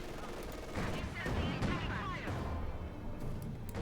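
Rifle fire from Pioneer infantry in the strategy game Company of Heroes 2, a scatter of sharp shots and bursts amid battlefield rumble, mixed under ongoing talk.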